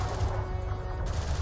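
Gunfire on a battlefield in the strategy game Homeworld: Deserts of Kharak, a steady rattling stream of rapid shots under a low rumble, continuous and fairly loud across a short stretch.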